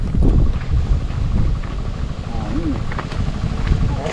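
Steady gusty wind buffeting the microphone, a low broadband rumble throughout, with a faint whistle briefly rising midway.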